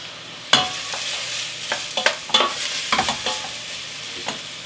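Chopped onions frying on low to medium heat in a pan, a close continuous sizzle with irregular scraping knocks as a utensil stirs them around.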